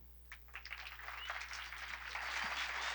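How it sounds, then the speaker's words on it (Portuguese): An audience at a talk breaks into applause, a few scattered claps swelling into steady, fairly distant clapping over a low constant hum. "Salva de palmas, pessoal."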